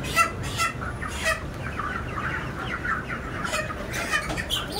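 Chickens at a poultry shop in hot weather, restless birds giving repeated clucks and squawks over a dense continuous rumble of noise, several calls close by.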